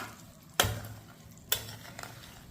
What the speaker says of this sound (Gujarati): ગરમ તેલ નાખીએ એટલે એની સ્મેલ એકદમ જ સરસ આવે છે કુરિયાની